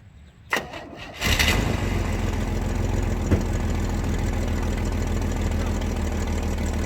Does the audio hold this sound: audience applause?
no